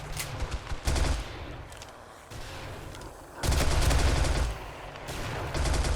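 Machine gun fire in 7 Days to Die, with rapid automatic bursts in several clusters separated by short pauses, at moderate volume and without talk.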